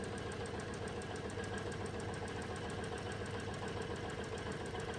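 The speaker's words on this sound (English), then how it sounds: "I'm just gonna sew a 1/4 inch away from the line that we drew all the way down." A sewing machine stitches a tulip quilt block a quarter inch from a drawn line, giving a steady, continuous mechanical hum with fine rapid needle pulsing throughout, close and unbroken.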